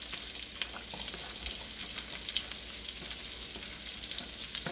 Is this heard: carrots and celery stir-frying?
yes